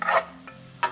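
Garlic sautéing in ghee in a pan, stirred in two short scraping bursts near the start and end with a faint sizzle between, close and moderately loud with no voices.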